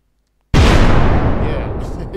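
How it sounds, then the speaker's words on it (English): A single loud gun blast from a 21-gun salute, striking suddenly after silence and trailing off in a long, rumbling decay. "Gunshot fired."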